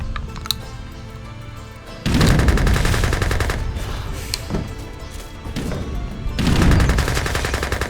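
Artillery in an Age of Empires 3 match fires in loud, dense volleys of booming blasts and crackling impacts, with bursts arriving in waves and heavy clusters near the start and end.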